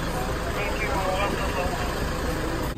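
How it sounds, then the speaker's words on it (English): An armored vehicle's engine runs with a constant loud drone while traveling through a suburb of Jerusalem, with a voice speaking over the rumble throughout. "This is how we have to travel there, unfortunately, with an armored vehicle."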